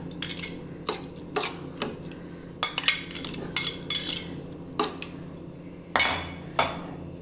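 Cooked rice goes into a pot for Vishu kanji porridge, with metal utensils clinking and scraping against the vessel in repeated, uneven taps close by, and no speech.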